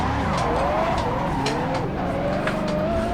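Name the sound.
Mazda Miata car driving in Assetto Corsa video game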